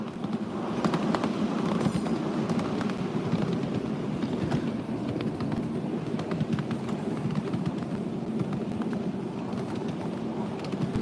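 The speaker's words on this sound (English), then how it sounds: "The steamer that we're running today is the 84 Northern Pacific Consolidation." Continuous rumbling, chugging coal-fired 7.5 gauge steam locomotive, a Northern Pacific Consolidation model, on rails with rhythmic clatter and hiss, steady and fairly loud throughout, no speech.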